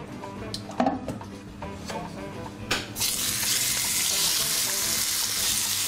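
Porcini mushrooms already softened with leeks hit a hot frying pan and burst into a loud, steady sizzle that holds to the end, after a few clatters and knocks of utensils on the pan.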